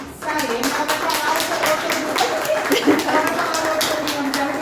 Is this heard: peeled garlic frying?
no